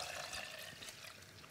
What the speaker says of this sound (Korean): 여기에 코코넛 밀크 다 넣어주세요